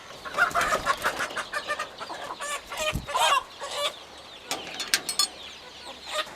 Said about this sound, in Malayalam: ഇത് നമ്മുടെ കരിങ്കോഴികളുടെ പാരൻറ്റ് സ്റ്റോക്കാണ്